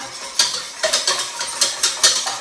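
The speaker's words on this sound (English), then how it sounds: "whisk them up a bit so they're really well mixed" Eggs being whisked for lemon curd, the whisk striking the bowl in a quick run of distinct clinks and scrapes, close and fairly loud, with no talk.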